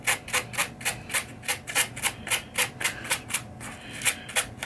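A green scrubby pad scrubs the worn shooter lane of a pinball machine, producing a steady run of close, rhythmic rasping strokes, about three to four per second, with no talking.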